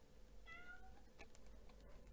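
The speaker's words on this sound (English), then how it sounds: "can you hear Blue meowing?" Blue, a cat hungry for her dinner, gives a single soft meow, faint and somewhat distant against quiet room noise.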